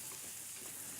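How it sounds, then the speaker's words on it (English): Beef sizzling in a hot pan on an induction hob gives a steady, quiet, hissing crackle with no pauses and no talk. "I need to cook that beef, get it really, really sizzling"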